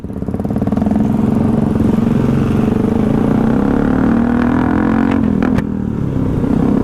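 A motorcycle with a loud exhaust revs hard and close, holding a raw, pulsing roar for several seconds with brief clatter near the end.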